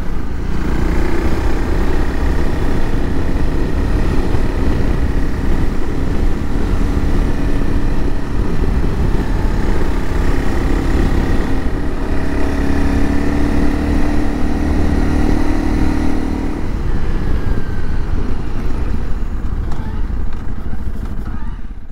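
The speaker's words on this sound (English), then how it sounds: "measuring the sound coming out of the stock exhaust on a Honda CRF300 Rally" Honda CRF300 Rally motorcycle on its stock exhaust, ridden along an open road: a steady, loud engine drone with wind rush running throughout, pitch shifting slightly near the end.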